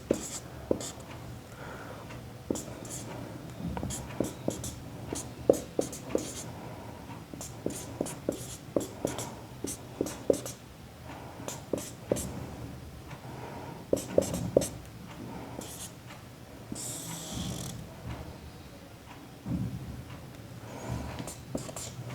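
Chalk or marker strokes tap and scratch across a board as a chemistry lecturer draws the furanose ring of fructose, steady short marks in irregular bursts with no talking.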